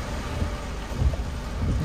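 Stormy weather from a typhoon at an urban residential complex, with a steady low roar of strong wind and rain throughout, gusts swelling loudly near the end; no clear thunderclap stands out.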